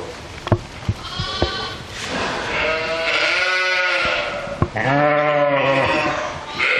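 Several lambs bleat loudly up close, long wavering calls overlapping one another, with a few clicks and knocks between them.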